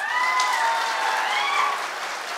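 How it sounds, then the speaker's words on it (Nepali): An audience applauds in a hall at a political gathering in Chitwan, a dense continuous wash of clapping heard from within the crowd, loud and sustained throughout. "कानको जाली फुट्ने गरी ताली बजाउनुहोस्।"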